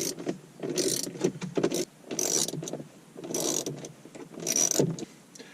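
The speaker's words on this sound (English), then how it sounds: "Now I'm going to undo this one and this one, which will release the screen." Torx screws being undone to release the screen unit in a BMW: repeated short ratcheting bursts, about five clicking spells with brief pauses between them, close and moderately loud with no talk.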